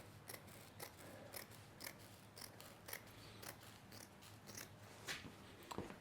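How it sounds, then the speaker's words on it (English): Scissors cut carpet during an interior refit of an abandoned Catalina sailboat, giving a faint, rhythmic series of crunchy snips about every half second against quiet background hiss. "Definitely should have invested in some better scissors for this"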